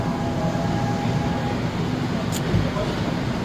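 Steady rumble and rush of a train ride in South Korea, between Daejeon and Suwon, running continuously at moderate level with a voice speaking over it.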